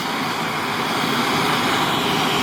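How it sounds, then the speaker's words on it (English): A steady, loud roaring hiss of metal-melting torches heating a crucible fills the whole stretch, blasting at full flame close by, with no voices. "Sorry about the noise from the torches."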